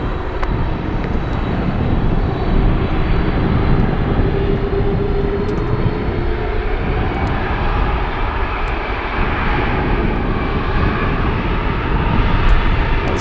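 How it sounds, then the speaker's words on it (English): A Condor airliner taxiing at Anchorage airport on a gusty day, its engines holding a loud, steady whine and rumble with faint tonal hums over continuous wind noise. "Condor is moving right now. Condor is taxiing to runway 25 left."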